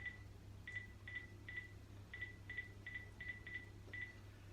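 A phone keypad being dialed to call someone, a quick series of about ten short, evenly pitched beeps, faint and close, over a low steady hum with no talking.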